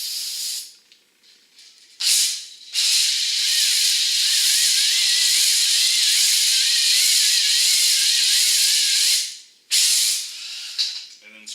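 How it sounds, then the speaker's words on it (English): An aerosol can of brake parts cleaner sprays onto a Mustang project car in one long steady hiss, preceded by a brief short burst and followed by a couple of quick trailing spurts, close and loud. "I just sprayed a bunch of brake parts cleaner."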